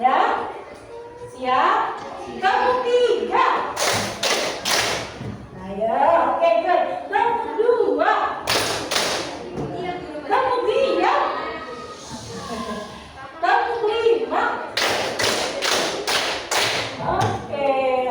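A classroom of children claps in sharp unison bursts of several claps each, spaced apart, while a teacher's voice talks between and around the groups.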